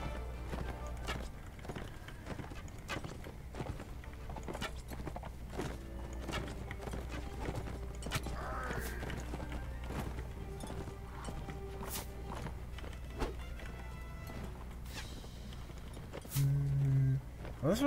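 A horse gallops in the game Mount & Blade Warband, its hooves beating a steady, fairly quiet clip-clop rhythm throughout, with scattered battle noises around it.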